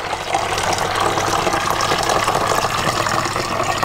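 Water is poured steadily into a plastic bottle for a hydrostatic pressure experiment, a continuous close gushing fill that stays loud and even throughout with no talking.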